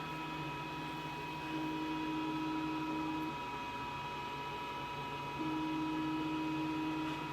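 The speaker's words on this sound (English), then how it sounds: "the machine started cutting, and it's going to do now the inside" Steady XTOOL laser cutter working through a project, a low continuous machine drone with faint tonal hum and a slightly louder whine that rises in two stretches, no voices.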